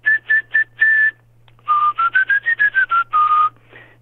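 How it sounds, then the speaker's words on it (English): A man whistles a quick series of short, clear notes using his tongue rather than his lips, first a few evenly spaced chirps, then a rapid run of pitch-shifting tweets; close and alone. "But I can whistle with my tongue."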